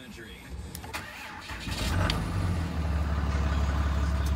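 A 2008 Ram 3500 diesel pickup with 91,000 miles cranks briefly and fires, its engine then settling into a loud, steady low rumble close by. No one speaks over it.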